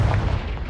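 Confringo fire spell blast in Hogwarts Legacy, a short booming burst with heavy low rumble, loud and close, fading over under a second.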